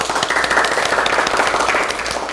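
Church youth-group seminar audience clapping, a dense, loud round of applause that holds steady throughout.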